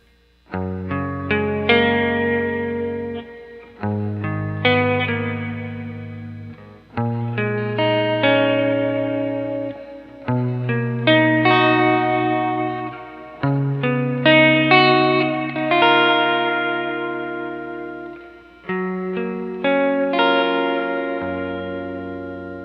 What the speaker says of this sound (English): It's a multi-texture reverb pedal